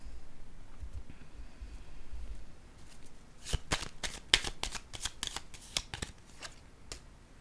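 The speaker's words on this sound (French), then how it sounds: "Je vais déposer une autre carte sur elle." Tarot cards shuffled and set down one after another in a quiet room, a rapid burst of crisp flicks and slaps following a few soft shuffles, close to the mic with no talk.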